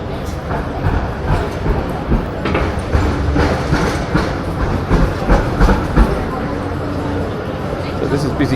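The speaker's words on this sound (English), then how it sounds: "So this is busy crowd central for the purple circus tram." A Melbourne tram rolls past a busy crowd with a rumbling, rattling clatter of wheels on track, loud and close throughout, while people talk and a dog barks in the background.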